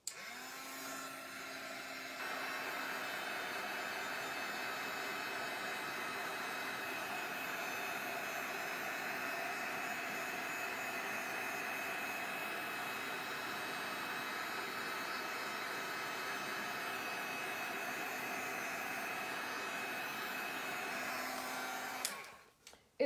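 A handheld heat dryer blows over a mixed media plaque made with industrial denim rice paper, a loud, steady whooshing drone close by that switches to a higher setting after a couple of seconds, runs unchanged, then cuts off at the end.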